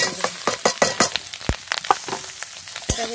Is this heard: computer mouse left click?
no